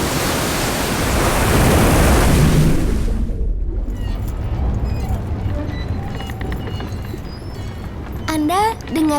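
A loud, broad surge of ocean waves crashes around a ship in a cartoon, then falls away into quieter sea sounds, with a voice speaking briefly at the end.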